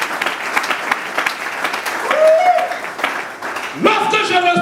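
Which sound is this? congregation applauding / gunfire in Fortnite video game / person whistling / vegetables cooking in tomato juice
congregation applauding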